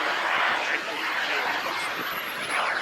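A model jet coming in to land at a radio-controlled flying event, heard as a loud steady turbine rush and whine that holds throughout, with a voice talking in the background.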